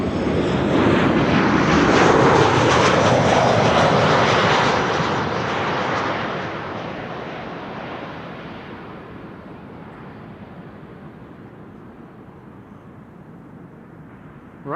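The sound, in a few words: Beechcraft King Air propeller airplane flying past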